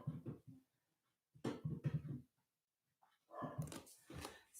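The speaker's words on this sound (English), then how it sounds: "dog's restless today, so you may hear barking in the background" A restless dog in a home barks in short bursts of several quick yaps, with pauses of silence between them, heard somewhat close and fairly clear.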